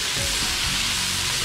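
Meat fries in a kazan with a loud, steady hiss that fills the whole moment, and low stirring noises sit underneath.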